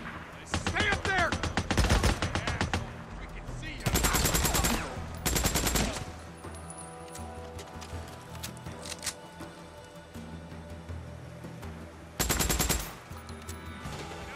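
Automatic gunfire in the game Days Gone comes in several loud, dense bursts, early on and again around the middle and near the end, separated by quieter stretches of ambient game sound.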